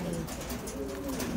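A female racing pigeon coos steadily and close by in low, rolling murmurs that run through the whole stretch with no talk over them.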